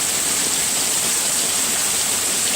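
Heavy rain pours steadily during a severe thunderstorm, a dense, even hiss of falling water heard close and loud, continuous throughout with no voices.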